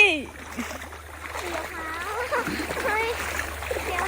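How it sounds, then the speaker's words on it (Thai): People climb into canal water with soft splashing and sloshing that builds steadily, close by, while voices talk over it. "ไปทุกคนเราจะลองจะลงน้ำกันนะ"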